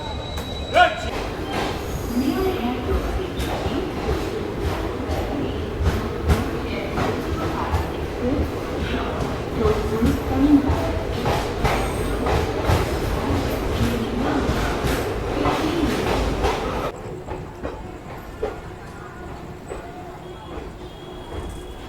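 The Garib Nawaz Express passenger train, in sleeper class, runs with a continuous loud rumble and rattle of wheels and carriages, with faint voices in the background, before the noise drops suddenly to a quieter hum near the end.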